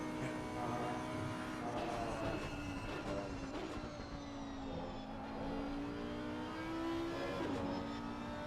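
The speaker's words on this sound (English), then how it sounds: "don't you just love the sound of the Lexus?" A Lexus race car engine roars steadily at a distance at the Barcelona circuit, its pitch rising and falling as it shifts, with a faint wash of crowd or track noise beneath.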